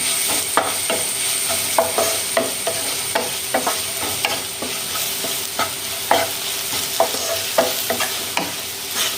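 Spice powders fry in a pan for bread upma, a steady sizzle broken by sharp, regular clicks and scrapes of a spoon stirring through the mixture, close and fairly loud.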